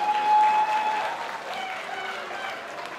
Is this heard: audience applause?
yes